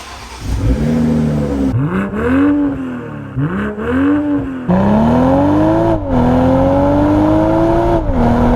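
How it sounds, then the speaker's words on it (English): A BMW M440i xDrive Convertible's exhaust barks through several quick revs, pitch rising and dropping, then settles into a longer, steady pull; loud and close, no talking. "even when you just start it up, just listen to that exhaust note"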